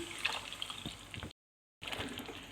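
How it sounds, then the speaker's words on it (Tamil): Tamarind water poured into a cooking pot of simmering vegetables for a narthangai pachadi, a steady close liquid splash and gurgle broken by a brief gap of silence, then resuming. "கரையினா புளி தண்ணியும் சேர்த்துடணும்"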